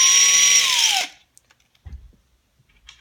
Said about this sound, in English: I'm gonna use a screwdriver, so it's gonna be fairly fast.